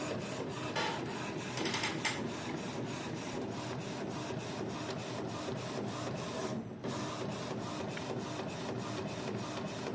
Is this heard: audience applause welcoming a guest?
no